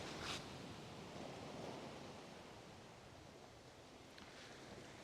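Ocean waves washing onto the shore make a soft, continuous hiss and rush with gentle swells, faint and distant, with no voices.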